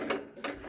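Snow blower auger shaft and drive chain turned over by hand after new auger bearings are fitted on a Case Ingersoll machine, giving two short ratcheting, clicking mechanical bursts close by with no talk.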